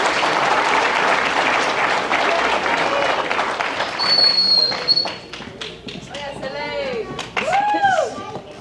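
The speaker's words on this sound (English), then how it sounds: "Give these ladies a round of applause." Applause from an audience at a high school athletic banquet, dense at first and then thinning out, with scattered whoops and voices rising over the clapping.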